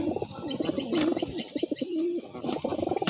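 Pigeons coo steadily and close by in repeated throaty rolling phrases, with light chirps and faint vehicle traffic in the background.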